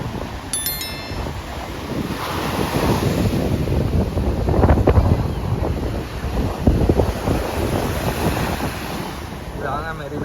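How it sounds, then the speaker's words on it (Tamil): Steady roar of sea waves breaking on Marina Beach, Chennai, with gusty wind buffeting the microphone, continuous and fairly loud throughout. "இதுதாங்க மெரினா பீச்."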